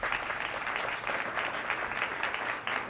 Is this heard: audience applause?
yes